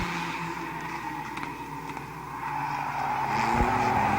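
Stock race cars pack around the oval at Midvale Speedway, their engines a continuous, fairly distant droning roar that swells slightly toward the end.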